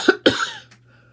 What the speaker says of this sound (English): Oh, that cough.